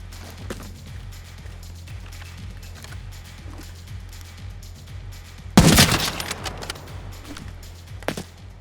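A short, sharp burst of gunfire cracks out in Arena Breakout Infinite, loud and close against a quiet low hum, followed by a few scattered impacts.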